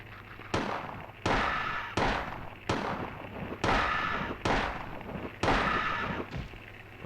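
Gunshots in the Silent Hill horror game: six loud, sharp blasts spaced about a second apart, each with a quick decaying tail, over a low steady background hum.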